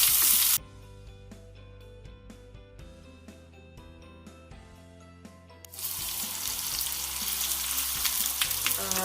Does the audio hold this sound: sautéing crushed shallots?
yes